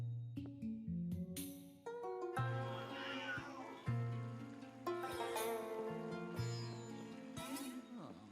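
A cat meowing in the video game Luigi's Mansion 3, repeated drawn-out meows mixed with game music and sound effects, moderately loud.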